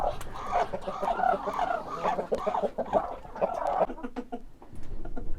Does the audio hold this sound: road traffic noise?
no